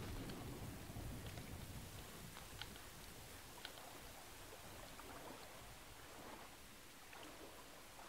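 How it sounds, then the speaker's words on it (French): Steady rain in the video game Windbound makes a soft, continuous hiss with scattered faint drip ticks. It is quiet and even throughout, with no voices. "évidemment, il pleut, fantastique"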